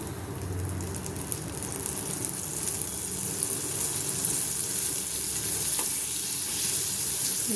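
Boiled corn kernels sautéing in butter in a pan, a steady soft sizzle and hiss that runs evenly throughout with no voices.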